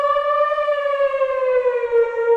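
Omnisphere Boys Choir synth preset with glide, a single sustained harmonic-rich note sliding smoothly downward over a couple of seconds, bright and upfront with no voices.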